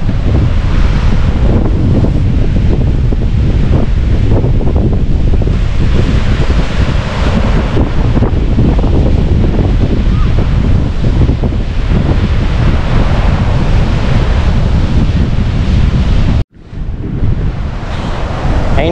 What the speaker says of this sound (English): It's a cliff edge, basically overlooking the ocean and the beach.